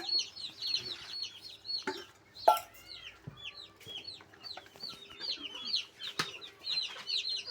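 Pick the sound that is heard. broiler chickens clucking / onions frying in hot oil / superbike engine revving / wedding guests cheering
broiler chickens clucking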